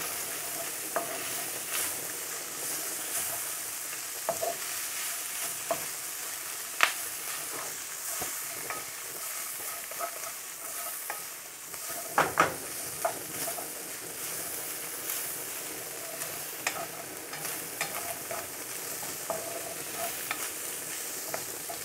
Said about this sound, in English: I'm going to add some of the spring onions so we can wilt them down.